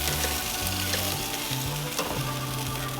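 Lemon herb chicken breasts on a Monument grill sizzle loudly and steadily as they are turned, a dense continuous frying crackle with no voices.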